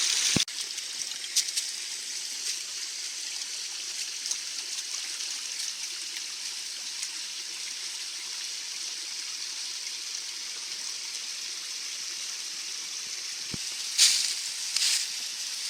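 A steady stream flows continuously, a soft broadband rush of water with gentle trickling detail, with a couple of brief knocks or footsteps near the end.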